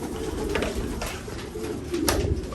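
Stock pigeons in a racing pigeon loft give soft, low cooing calls, a few short coos rising over a steady background hum inside the loft.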